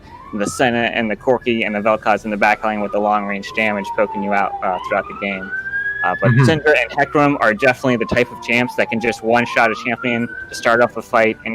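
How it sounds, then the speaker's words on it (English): A police siren wails in the background, rising and falling in long sweeps throughout, steady and moderately loud beneath continuous fast speech. "I do apologize for the sirens in the background"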